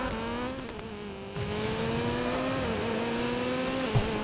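A Honda Civic in the racing game Need for Speed Payback accelerates hard. Its engine note climbs steadily and holds a high, strained whine, with a brief dip and a short tire noise near the end.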